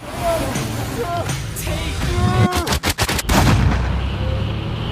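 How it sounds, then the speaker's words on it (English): In a Moon Knight TV episode, a burst of several sharp gunshot-like cracks cuts through loud, busy action-scene sound with vehicle noise. Voices are heard in the mix. "you hear the gunshot, as if the gunshot is what woke Steven up"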